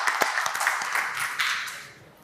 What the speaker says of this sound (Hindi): एक बार तालियां जोरदार बच्चे के लिए।